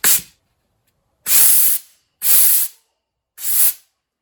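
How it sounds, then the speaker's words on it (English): Compressed air blasted through the fuel line of a 1938 Pontiac: four sharp hissing bursts, each under a second long, with short silent gaps between them, close and loud. "Okay, we got our line here. We're just gonna blow it out."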